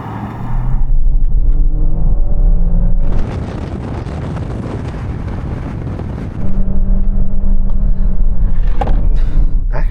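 Chinese car floored from a standstill to 60 mph with no launch control, engine and wind roar swelling loudly, easing briefly at a gear change around the middle, then surging again, heard from inside with no talk.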